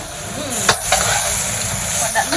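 Cabbage stir-frying on high heat crackles with a dense, constant sizzle close by, broken by a few sharp clicks and scrapes of stirring in the pan.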